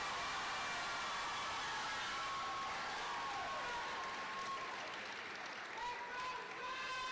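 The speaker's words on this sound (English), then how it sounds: "Another round of applause for the class of 2025." A graduation crowd applauds the class of 2025, a steady, fairly faint wash of clapping that carries on evenly throughout, with some voices and faint tonal sounds mixed in.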